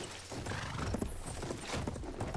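Horse hooves and a whinny in the video game Battlefield 1, rapid close clip-clopping with a short neigh rising through the middle amid game noise.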